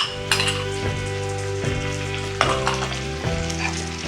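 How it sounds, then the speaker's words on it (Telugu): Ginger paste frying in a pan for a gongura prawn dish gives a steady close sizzle, punctuated by several metallic scrapes and clinks of a spoon stirring against the pan. "ఇది పచ్చివాసన పోయేదాకా ఎంచుకోవాలి."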